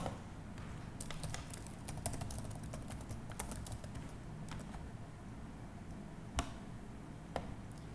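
Quick bursts of keystrokes on a computer keyboard, close and fairly quiet, with irregular clicks and a few sharper taps during a typo correction, no voices present.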